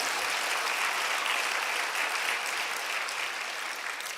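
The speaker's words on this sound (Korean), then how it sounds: "다시 한번 큰 하나님께 영광의 박수 올려드립니다." A church congregation gives a loud, dense round of applause during a worship service, steady and sustained from start to finish.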